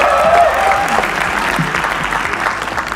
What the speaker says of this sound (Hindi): अगली एक्ट श्रेया प्रियम रॉय के लिए तालियां एक बार प्लीज